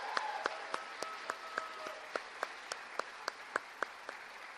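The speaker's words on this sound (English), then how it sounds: "One more round of applause for everyone." Audience applause at a college senior student-athlete awards ceremony: crisp, evenly spaced claps sound close and regular over a faint, distant wash of crowd clapping, fairly quiet overall.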